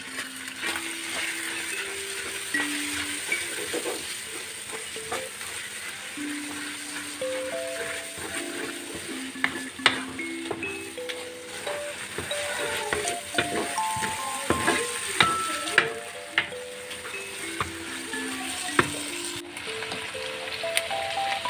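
Pepper paste sizzles steadily in a frying pan with melted onions and is stirred and scraped with occasional knocks, while music plays over the cooking.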